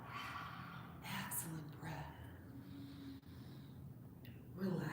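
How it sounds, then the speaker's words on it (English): Long cleansing exhale during a gentle yoga session, a close, steady breath of air running for several seconds with a soft rustle at the end. "Let's take another long cleansing breath."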